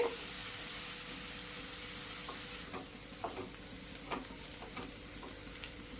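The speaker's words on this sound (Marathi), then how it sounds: "आता मी कांदा ब्राऊन होईपर्यंत फ्राय करून घेणार आहे।" Onions fry to brown for a dry shrimp masala, with a constant soft sizzle and hiss in the pan broken by occasional stirring scrapes and clicks, all close and without voices.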